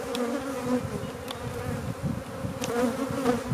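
Honeybees buzz steadily around an opened hive while frames of brood are being moved, a dense continuous drone with a few sharper passes of individual bees flying close by.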